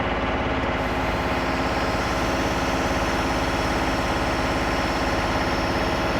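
A farm tractor fitted with loader forks runs at a steady idle, its low engine drone and rumble holding at an even, fairly loud level throughout with no talk over it.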